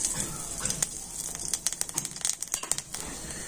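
Black cumin seeds dropped into hot mustard oil, giving a bright crackling sizzle with scattered sharp pops, close and moderately loud, without speech.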